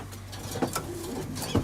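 An original breeding pigeon from Paweł Mędrysa's loft coos softly in a couple of low, brief calls, close by and faint, with no voices.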